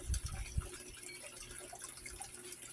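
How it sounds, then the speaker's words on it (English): Water poured off a dish of solid black sand, giving a faint, soft trickle and a few drips, with a couple of low thumps near the start and quiet room noise after. "let me pour this water off."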